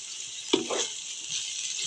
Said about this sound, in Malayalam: ഇനി അരിഞ്ഞു വെച്ച സവാള ചേർക്കുക. സവാളയുടെ പച്ചമണം മാറുന്നത് വരെ ഒന്ന് വഴറ്റുക.